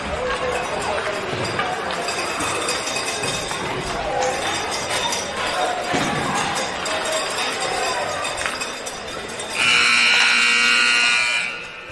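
Amid a noisy ice hockey arena crowd with skates and chatter, a loud harsh buzzer blares for about two seconds near the end.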